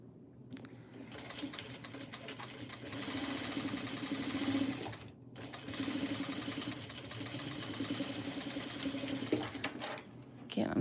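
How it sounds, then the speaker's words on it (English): A home sewing machine stitches slowly through a quilt top, a steady mechanical whir and rapid needle chatter that runs continuously with one brief stop midway. "I'm sewing real slow so that my machine gets really loud when it goes faster"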